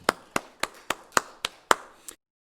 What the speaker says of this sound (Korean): 우리 하나님께 감사 박수 올리도록 하겠습니다.